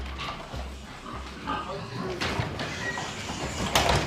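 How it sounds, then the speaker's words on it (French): Pigs being loaded onto a transport truck at a farm in Saint-Albert, Ontario, grunting and squealing amid clattering gates and metal knocks, with faint voices in the background. "L'embarquement est l'étape la plus difficile pour les cochons."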